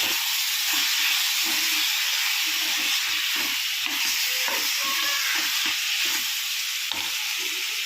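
Chicken curry stirred in a pan at home, a steady sizzle and frying hiss running throughout with repeated soft scraping strokes of a spoon against the pan, close and fairly loud, with no talking.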